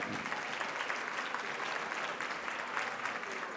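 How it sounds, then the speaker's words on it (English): An audience at a climate policy summit plenary session claps together in sustained, even applause at moderate distance, a dense wash of hands with no voices standing out. "Let's give them a really big round of applause before we head to lunch."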